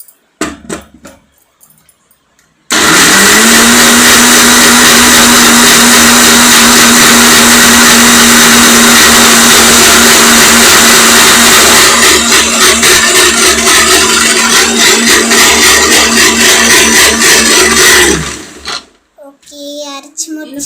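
A kitchen mixer grinder whirs loudly and steadily for about fifteen seconds, a continuous motor drone with a rising whine and grinding rattle, starting abruptly and cutting off near the end; no talk over it.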